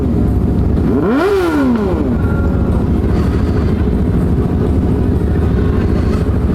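A Yamaha R6 motorcycle engine revs up sharply and falls back, rising above a steady loud traffic rumble, then settles into continuous engine drone.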